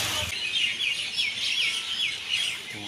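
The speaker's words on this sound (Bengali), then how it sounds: "ক্যাচর ম্যাচর করেই যাচ্ছে পাখিরা।" Birds chirping in trees overhead, a lively cluster of repeated high tweets and chatter close by, continuing without a break through the clip.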